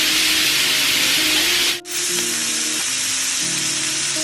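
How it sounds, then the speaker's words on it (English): Sausage for gumbo sizzles loudly in a pan, a steady bright hiss with a low hum under it, briefly dropping out for a moment before the frying noise resumes at full strength; no one talks. "while we got the sausage cooking"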